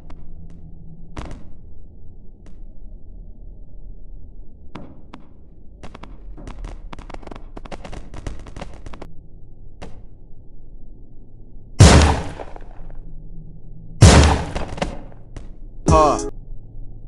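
Gunfire in the video game Melon Playground: three loud, sharp bursts near the end, each cutting over a quiet background of small taps and clicks while people talk.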